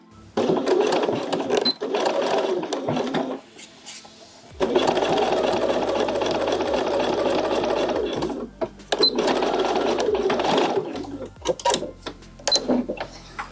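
A sewing machine reinforces a seam on a bodysuit in several close, loud bursts of stitching separated by short pauses, with faint clicks and mechanical rattles between runs.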